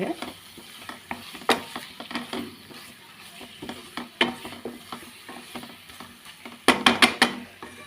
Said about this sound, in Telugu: బాగా మిక్స్ చేసుకుని ఫ్రై అంటే ఇట్లా దగ్గరికి అయిపోవాలండి